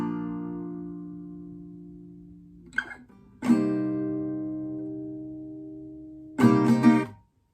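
Guitar strums the opening two chords of the bridge of a song, played live with looping: one ringing chord sustains, a light touch near three seconds, then a second chord hit and held, and a final strum near the end.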